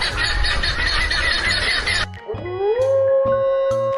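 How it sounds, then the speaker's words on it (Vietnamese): A wolf lets out a long howl that rises in pitch and then holds a steady, clear tone, following a loud burst of noisy sound at the start. "Con chó sói."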